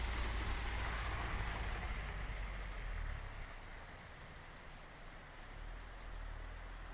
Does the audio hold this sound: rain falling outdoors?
yes